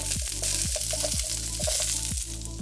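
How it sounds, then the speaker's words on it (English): Diced green pepper and minced ginger fry in a hot oiled pan with a constant sizzle, broken by regular spatula scrapes and stirring strokes about every half second. "In our hot oiled pan, I'm adding our minced ginger. Get it fragrant. Add in your diced green pepper."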